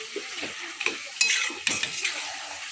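Chicken stomach fries in a pan while a utensil stirs it, giving a low sizzle broken by several sharp scrapes and clinks of metal against the pan, fairly close and with no voices.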